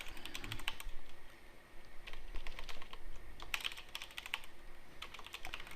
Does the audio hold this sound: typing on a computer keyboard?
yes